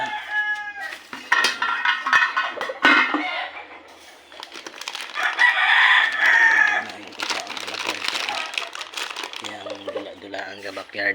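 Backyard chickens cluck and fuss close by while a rooster crows. Someone talks over them almost the whole time.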